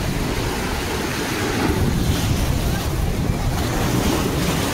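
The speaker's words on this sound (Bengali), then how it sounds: "এখন জোয়ার চলছে, পুরো হেভি ঢেউ দিচ্ছে।" Heavy sea waves surge and crash at high tide on Digha beach, a loud, continuous roar of surf blended with wind buffeting the microphone, water reaching up to the roadside.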